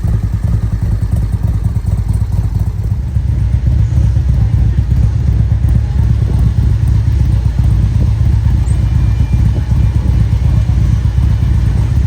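A motorcycle engine idles loudly and close at the Biketoberfest opening day in Daytona Beach, a dense, steady low rumble with rattling clatter that runs for the whole stretch, with faint background chatter.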